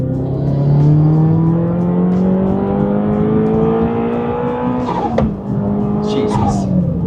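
A turbocharged Toyota GR86 running on E85 pulls hard in third gear, its engine note climbing steadily for about five seconds before a sharp shift break, then revving again, heard loud from inside the car.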